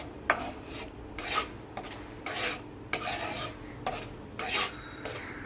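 A spoon stirs thickening milk in a pan to make homemade milk powder, giving repeated scraping and rasping strokes against the pan in an irregular rhythm, close and moderately loud, with no speech.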